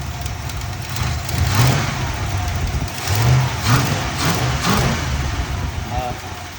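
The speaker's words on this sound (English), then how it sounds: "Pulling fuel from the tank. Fuel pumps serving the carburetor. Carburetor feeding the engine." Carbureted engine of a 1977 Chevrolet El Camino running with a rough, uneven idle and occasional revs, close and fairly loud, while people talk over it.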